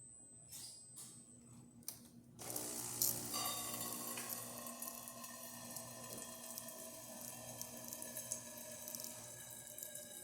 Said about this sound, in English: So let's test the hot water.